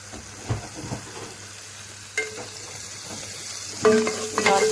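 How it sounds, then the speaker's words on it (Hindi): Whole spices, bay leaf, cinnamon and green cardamom, frying in oil in a pan, a low continuous sizzle broken by a few sharp clinks and scrapes of a utensil against the pan. "देखिए हमारे स्पाइसेस अच्छी तरह से हो गए फ्राई"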